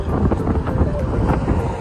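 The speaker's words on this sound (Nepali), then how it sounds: "एकदम हावा चलिरहेको" Strong wind at an Abu Dhabi beach buffets the microphone in a continuous low roar, with gusts rising and falling and no clear voices.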